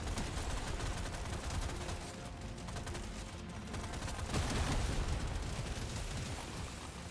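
Minigun in the video game Deep Rock Galactic Survivor firing nonstop, a dense rapid rattle of shots mixed with bursts and pops, steady and continuous throughout.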